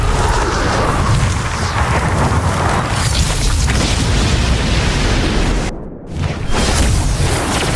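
A Cosmic Strike finisher effect from a video game: a loud, sustained booming blast with a dense explosive rumble that drops out briefly near the end before surging back.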